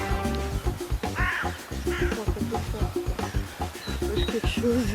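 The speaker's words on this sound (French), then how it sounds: "il y a un corbeau là" A crow caws repeatedly in London's Brompton Cemetery, with loud, close, harsh calls in irregular runs over an outdoor background.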